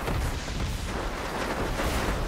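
Enemy Empire gunfire in Diablo 3 gives a dense, continuous rumble of booming shots and bursts, blurred together under game noise with no clear gaps.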